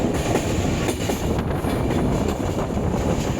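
The Uttar Banga Express 13147, Sealdah to New Jalpaiguri, runs over the Dankuni line above the Naihati main line, a loud steady roar of wheels and rattling coaches with rhythmic clatter heard from inside, no voices.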